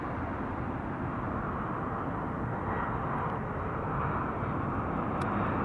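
An Air Canada airliner's jet engines roar steadily as it takes off from Toronto Pearson airport, a broad continuous rushing drone heard from a distance with no voices.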